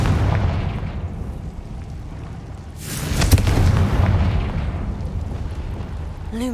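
A fire-blast spell explodes in Hogwarts Legacy, a loud burst with a booming rumble that swells and fades over a dense game soundscape.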